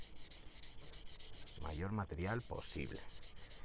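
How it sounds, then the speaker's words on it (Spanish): Sandpaper rubs wetly over a Sega Mega Drive 2 console shell in a steady back-and-forth rasp, close and continuous, while someone speaks over it partway through. "La lija también, y vamos a ir lijando"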